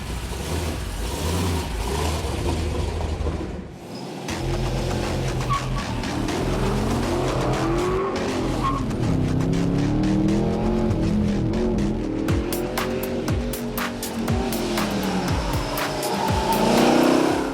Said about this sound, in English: we drove this truck here for one reason, and that's to put it on the autocross course.